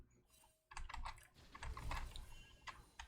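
Rapid clacking of computer keyboard keys during an online game session, close and fairly loud, with bursts of keystrokes continuing through the whole stretch and no voices.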